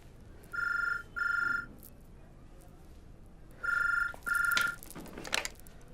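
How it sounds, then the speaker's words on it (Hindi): A telephone rings in two pairs of bright electronic trills, one pair early and one later, with quiet room tone between them. It is fairly close and clear, with no talk over it. "आपका फोन जी।"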